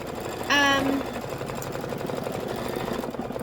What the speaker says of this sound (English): This is gonna be 7 minutes of stitching. Just let it stitch away.